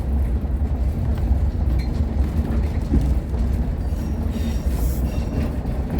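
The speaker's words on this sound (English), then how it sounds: "Wave to the other train." Steady low rumble and rattle of a train in motion on the Weardale Railway heritage line, continuous and fairly loud, with no talking.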